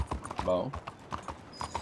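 Horse hooves clip-clop in the Red Dead Redemption 2 video game, a few steady nearby steps heard under someone speaking French, with a brief whinny-like tone partway through.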